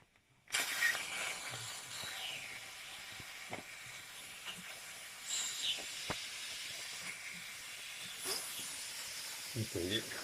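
Steam hisses steadily from the loosened cap of a Dupray Neat steam cleaner, a close, continuous broadband hiss that starts abruptly and carries on throughout, with a few small clicks and handling noises.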